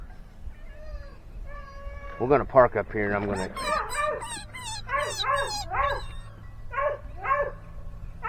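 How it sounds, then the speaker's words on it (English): A cat yowls and meows repeatedly outdoors after catching a ground squirrel or rabbit, drawn-out wailing calls that rise and fall, with someone talking at the start. "my cat just got a ground squirrel, or a rabbit"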